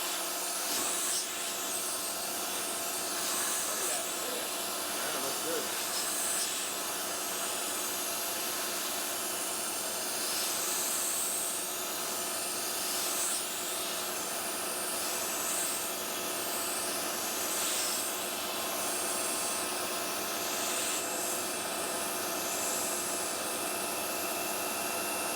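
Machine cutting a remote shifter base for a Tremec T56/TR6060 swap, a continuous high, hissing cutting whine with faint chirps throughout, steady and even.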